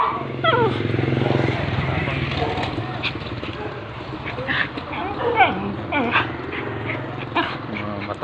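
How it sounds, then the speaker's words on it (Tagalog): A fierce dog barks in sharp, close bursts while out around a village in north Susana, with someone talking throughout over a low engine drone nearby. "Matapang na aso dito guys"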